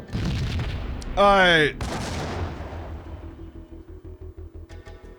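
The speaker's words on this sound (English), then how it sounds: "the grenade set off the tripwire, detonated" Booming in-game gunfire and explosion from a grenade setting off a tripwire in Max Payne, a loud burst with rumbling aftermath, a brief voice speaking, then a steady rhythm of repeated thuds.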